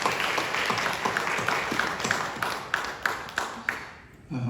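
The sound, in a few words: congregation applause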